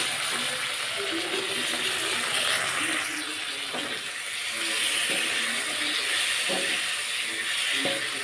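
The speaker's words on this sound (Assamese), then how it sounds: "টেঙাখিনি এতিয়া তেলত হালধি নিমখৰ লগত নহৰুৰ লগত অলপ সময় ভাজি লওঁ" Elephant apple fries in hot oil with turmeric, salt and garlic, producing a steady loud hiss of sizzling with a few soft scrapes of stirring mixed in.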